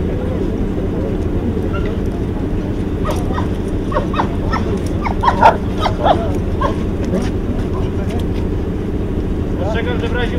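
A police dog barks and yips in short bursts over a steady low engine rumble outdoors at a railway anniversary event, with the barks clustered in the middle and fading toward the end.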